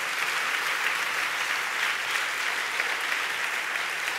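An audience at an evening forum event applauds a guest, producing dense, even, continuous clapping that stays loud and steady throughout.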